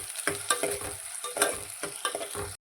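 Garlic and onions sautéing in a pan over low heat for curry leaf kulambu, a steady sizzle broken by repeated scraping strokes of stirring, close and fairly loud with no talking.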